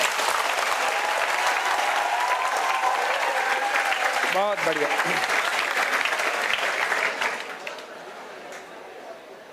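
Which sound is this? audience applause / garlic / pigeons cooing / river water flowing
audience applause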